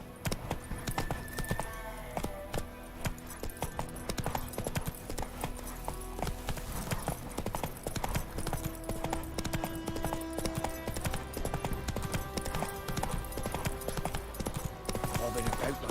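Horse hooves clip-clopping steadily in The Witcher 3: Wild Hunt, a continuous rhythmic trot of close, sharp hoof strikes, with a voice speaking over it at times.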